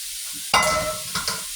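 Shrimp sautéing in a skillet for southern-style shrimp and grits, a sudden loud sizzle as food hits the hot pan, then steady frying with a couple of stirring bursts, close and alone.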